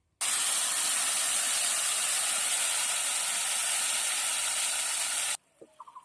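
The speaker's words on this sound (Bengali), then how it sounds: "সর্ষে বাটাটা সুন্দর করে ভেজে নিয়েছি।" Paste of white and black mustard, poppy seed, ginger and green chilli hits hot oil with black cumin, a loud continuous sizzling hiss lasting about five seconds, then cutting off abruptly to quiet.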